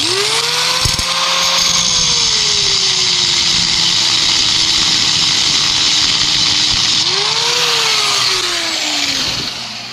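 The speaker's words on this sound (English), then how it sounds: "I got to cut the bottom of this stud off" A power tool cutting off the end of a U-bolt stud on a '66 Chevy 1-ton dually, with a loud continuous whine that dips and swoops in pitch as the blade bites the metal, rising again near the end.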